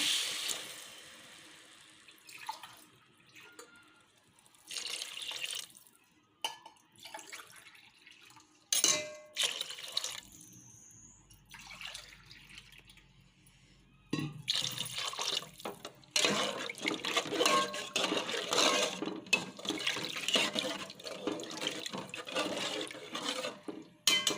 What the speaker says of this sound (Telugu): నేను రెండు గ్లాసుల బియ్యానికి నాలుగు గ్లాసుల వాటర్ తీసుకుంటున్నాను